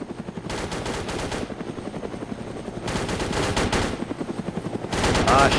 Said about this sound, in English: I'm getting fired on by the chopper